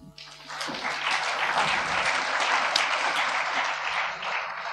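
Audience applause at an open source software industry roundtable, greeting Eclipse Foundation executive director Mike Milinkovich, swelling quickly into dense, steady clapping from a large crowd that holds strong for several seconds before easing slightly.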